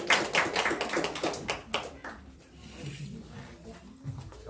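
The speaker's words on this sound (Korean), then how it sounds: "박수 한번 쳐주세요." Audience applause in a church service quiz setting, a burst of claps and taps for about two seconds that quickly fades, leaving faint room murmur.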